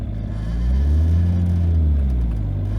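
A car with a 2JZ engine and a Tilton ST246 clutch pulls away as the clutch engages, its deep engine rumble swelling and holding steady, loud and close, with no talk.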